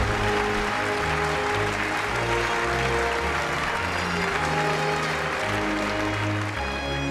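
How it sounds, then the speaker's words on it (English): Loud, sustained applause from an audience at a Chao Racing Tournament of Champions closing ceremony, a dense steady clapping that fills the whole stretch without pause. "big round of applause for Benan Jares of France."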